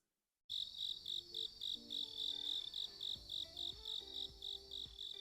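Crickets chirp steadily in rapid pulsing bursts, close and clear, with faint low tones drifting underneath.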